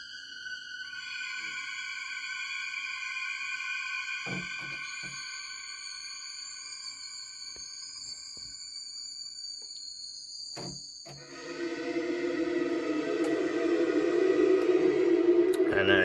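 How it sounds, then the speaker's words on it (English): A Ligeti- and Penderecki-inspired synth patch built in Surge sustains eerie clustered high tones, punctuated by a few soft thuds, then shifts into a denser, louder, darker lower cluster that keeps building. "I'm going to be showing you this new synth patch that I made. I've called it the Ligeti Synth,"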